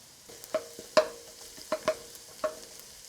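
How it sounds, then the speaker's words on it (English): Garlic fries in rendered chicken fat in a pan, a soft continuous sizzle punctuated by about six sharp clinks and scrapes of a utensil stirring against the pan. "And now the garlic is frying in chicken fat also."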